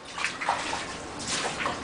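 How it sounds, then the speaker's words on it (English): Flood water at 412 19 Street bubbling back up as the area re-floods, a continuous gurgling, splashing wash of moderate loudness with no voices. "it's bubbling like crazy, coming back up"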